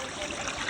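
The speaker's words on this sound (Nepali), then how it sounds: "मुलबाट आएको पानी है" Spring water trickling from its source, a soft, continuous, close-up dribble with no voices.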